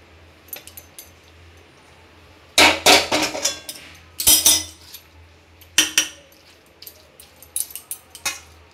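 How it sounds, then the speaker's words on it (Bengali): Cooked ash gourd curry is transferred from a pot into a dish with the gas flame off, heard as sharp metallic clinks and scrapes in irregular bursts against a quiet background. "এবার আমি পাত্রতে ঢেলে নেব।"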